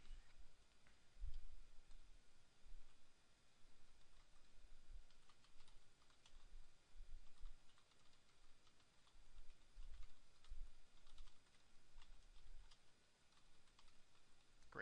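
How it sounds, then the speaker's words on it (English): Steady typing on a computer keyboard while writing an APA-style paper in Word, with quiet irregular key clicks and soft taps running through the whole stretch, close and fairly faint, with no talking. "So I start to type yada yada yada"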